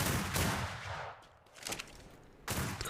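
Naval combat video game gunfire and cannon fire, bursts of rough broadband blasts with a pause in between, fairly loud and close, with no talk over it.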